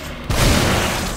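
A gunshot fired in the survival-horror game The Evil Within: a single loud, sudden blast with a boomy low-end thump, followed by a sustained noisy rumble that trails on without fading.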